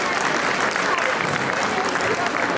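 A hall full of people at the Resonance 2025 inauguration keeps up sustained applause, an even wash of many hands clapping that holds at the same level throughout.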